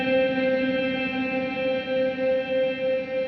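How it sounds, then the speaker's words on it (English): Sustained ambient guitar wash from a Chase Bliss MOOD pedal, long delay and reverb tails layered into a steady drone that swells gently and keeps ringing throughout. "it's got some kind of time-based effect in there, so it's delay"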